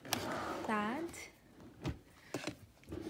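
An IKEA Alex drawer in a vanity desk pulled open: a few soft sliding and knocking sounds close by, mixed with a person talking.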